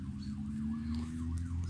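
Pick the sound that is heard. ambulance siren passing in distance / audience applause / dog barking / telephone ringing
ambulance siren passing in distance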